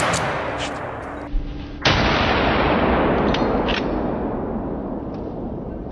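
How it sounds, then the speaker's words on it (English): A hunter's gunshot aimed at a wild boar in a forest: one sudden, loud, booming bang that rolls into a long, noisy echo lasting several seconds, with no voices. "A thunderous bang echoed, and one boar dropped instantly."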